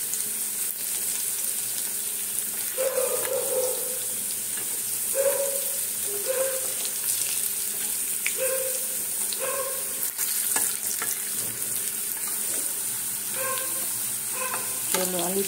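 Potato pieces fry crisp in hot oil in a pan, a continuous loud sizzle with repeated scraping stirs of a spatula breaking through at intervals.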